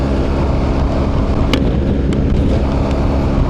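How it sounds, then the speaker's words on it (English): Wind buffeting around a raised motorcycle helmet visor on a BMW R 1300 GS Adventure at highway speed, a steady loud rushing roar with low rumble and a few brief gusty spikes throughout. "there is some buffeting wind right where my visor is here"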